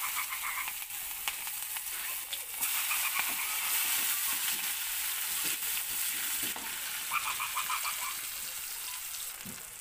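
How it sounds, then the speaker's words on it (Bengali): Onion added as a tempering to hot oil for a fish curry sizzles loudly and continuously, with occasional stirring scrapes and short crackling bursts. "এই তেলের মধ্যে দিয়ে দেবো আমি পেঁয়াজ ফোড়ন"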